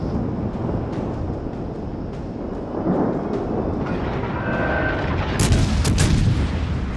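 Heavy naval gunfire in World of Warships as a battle unfolds against the battleship Yamato, with deep booming salvos rolling under a constant low rumble and a sharper burst of shots near the end.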